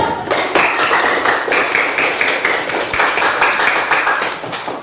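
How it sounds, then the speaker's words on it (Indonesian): A classroom of students claps hands together in a loud, rhythmic, slightly uneven pattern, close and continuous for several seconds. "Kita beri tepuk tangan, Ibu."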